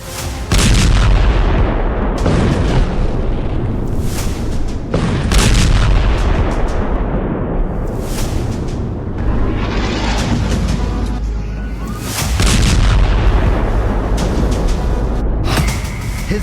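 Heavy, continuous rumbling booms of explosions from an Israeli strike on Yemen, with repeated thudding blasts rolling over one another at loud volume for the whole stretch, with no talk.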